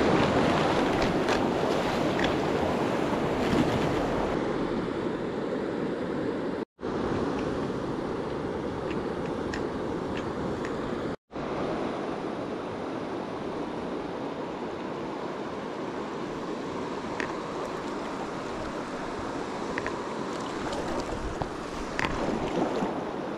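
Steady rushing water from a strong current on the South Platte River in Colorado, a constant broadband wash with wind buffeting the microphone and two brief dropouts.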